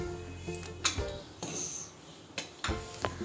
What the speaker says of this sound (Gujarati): ગેસ પર કુકર મૂકી દઈશું